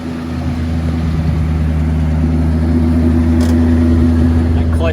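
A Ford Bullitt Mustang engine runs loud and close with a deep, steady rumble that rises slightly toward the end.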